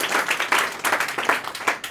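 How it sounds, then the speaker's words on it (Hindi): Applause from a group at a Bihar Board 10th toppers class gathering, a dense patter of claps at steady volume for the whole stretch, close and without talk. "जोरदार तालियां होना चाहिए"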